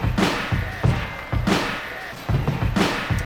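A looped drum sample for a remake, with the second snare moved onto the first snare's spot, thumps in a steady repeating pattern of kick and snare hits, loud and close.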